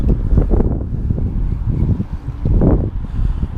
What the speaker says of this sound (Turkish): hala da çok rüzgar var